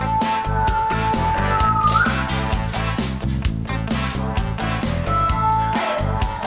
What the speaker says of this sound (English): Do some whistling.